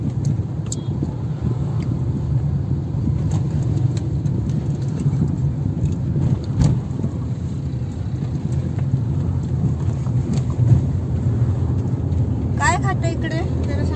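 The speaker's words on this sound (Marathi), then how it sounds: "एकदम सुसाट चालली गाडी." A car drives fast at night along Ghodbunder road, heard from inside as a steady, close road rumble and engine hum, with people talking over it.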